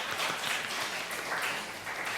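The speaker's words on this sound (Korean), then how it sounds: "환영의 박수 드리겠습니다" Sunday worshippers at a Korean church give sustained, even applause to welcome returning members. It is a dense, continuous wash of many hands clapping at once, with no pauses.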